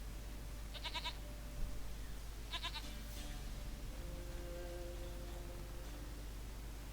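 Two quiet, quavering goat bleats sound about two seconds apart in The Witcher 3 video game, over a steady low hum and faint game ambience.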